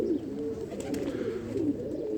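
A large breeder pigeon coos in soft, low, repeated rolling calls, close but fairly quiet against a steady background hum.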